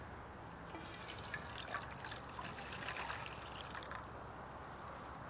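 Water trickles and splashes as it is poured, a quiet, continuous liquid gurgle with no talking.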